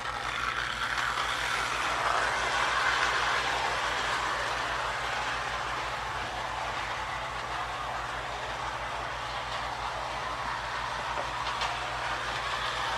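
A Marx Santa and Mrs Claus toy handcar runs with a steady mechanical whir and a low rhythmic clicking, constant and moderately quiet throughout with no talking.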